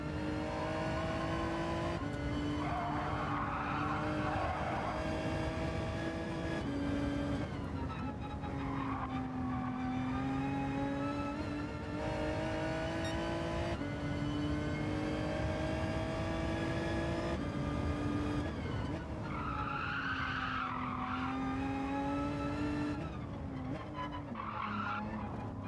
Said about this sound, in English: Let's warm these tyres up.